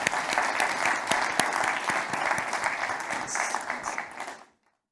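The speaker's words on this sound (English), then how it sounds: "Please give them a round of applause." An audience at a World Wildlife Day panel event claps in a dense, even burst of applause that holds for about four seconds and then quickly dies away to silence.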